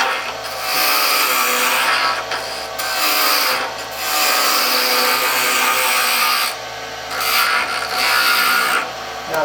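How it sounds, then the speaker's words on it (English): A sharp gouge on a wood lathe cuts downhill through the wood fibers on a spinning workpiece, giving a continuous close scraping hiss that swells and eases as the tool passes, with no talking. "When I go downhill, I have to cut through the fibers, and then I get a clean cut."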